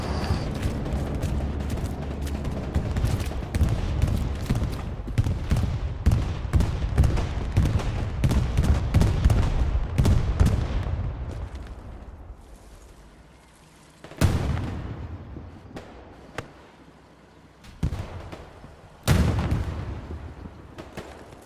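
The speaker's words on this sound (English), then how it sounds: "Enemy bomb run" Bombing run in Hell Let Loose on the Remagen map: a dense rumbling barrage of explosions and gunfire for about ten seconds, then a few separate heavy booms after quieter gaps.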